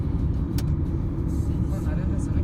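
Heard from inside a driving-school car on the Gebze motorway, a faster car overtakes in the left lane over a loud, steady road-and-engine rumble, while someone talks throughout.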